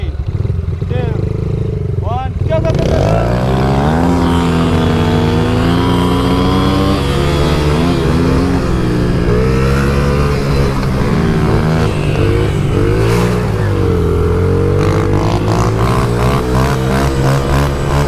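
Small dirt bikes ridden by racing kids whine and rev loudly up close, the pitch rising and falling as they accelerate, with a voice heard over the engines.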